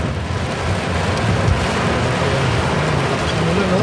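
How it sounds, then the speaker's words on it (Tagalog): Steady, dense wash of heavy rain and wind noise on a road, loud and constant throughout, with no break in the downpour. "Lakas ng ulan, no?"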